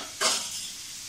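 Chopped onion sizzles and is stirred in a pan with salt, for a yam masala bhaji; a brief louder burst of frying and scraping fades into a steady, moderate sizzle, with no talking.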